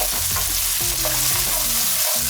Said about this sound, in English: And always just give it a good stir